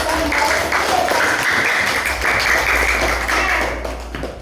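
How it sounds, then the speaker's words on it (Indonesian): Students in a classroom applaud together in a short burst of dense clapping that holds steady and then fades out toward the end. "Tepukan untuk kalian semua, sudah bagus."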